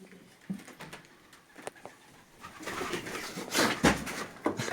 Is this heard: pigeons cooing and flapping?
yes